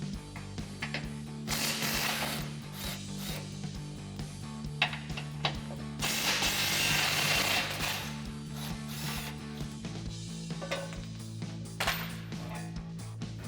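Socket tool loosening skid plate bolts under a Jeep Gladiator JT, metallic ratcheting clicks and clanks with scraping bursts over a low steady hum, close and moderately loud.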